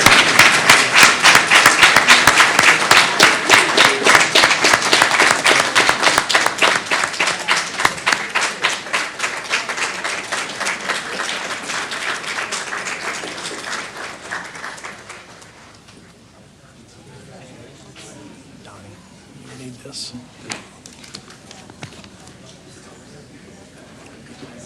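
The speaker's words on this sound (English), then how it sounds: "Let's give another round of applause for our extraordinary 25-26 secondary Teachers of the Year." Sustained, fairly loud audience applause at a school district board meeting honours secondary Teachers of the Year, dense clapping lasting about fifteen seconds before tapering to a quiet room with a few stray sounds.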